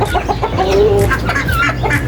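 Chickens cluck and chatter continuously nearby, with overlapping short calls and a few higher squawks.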